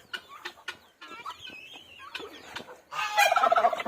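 A turkey gobbles in bursts among clucking chickens in a poultry yard, with a louder, denser flurry of fowl calls toward the end.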